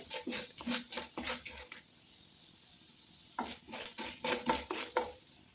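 Urad dal and other tempering ingredients sauté in a pan over a medium flame for hotel-style lemon rice, with quiet sizzling and rhythmic spoon scrapes in two bursts around a short pause.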